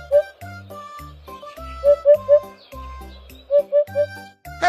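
A hoopoe call repeats a soft hollow three-note 'oop-oop-oop' phrase twice over a bouncy children's music backing.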